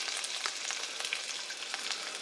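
Duck magret grease sizzling hard in a tilted casserole over high heat, a steady, bright, crackling fry with scattered pops and no voices.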